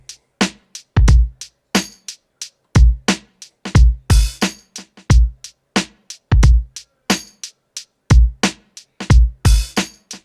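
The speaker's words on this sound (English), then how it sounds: "So yeah, I rearranged the drums a little bit." A rearranged drum track built in Cubase 13 plays a punchy programmed beat, booming kicks and snappy snares with crisp hi-hat hits in a steady repeating groove, loud and dry with no talk.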